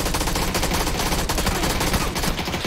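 Rapid automatic gunfire from the video game PUBG, loud and continuous with dense overlapping shots throughout and no talk.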